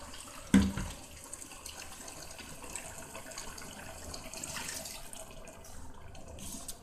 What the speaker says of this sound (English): Let me put a little bit of water and rinse my blender off.